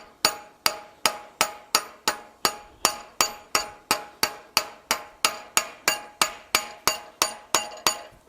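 Hammer blows ring on hot steel while forging a hook tail spatula at the anvil, about twenty sharp metallic strikes in an even, steady rhythm, each decaying quickly, close and loud with no talk.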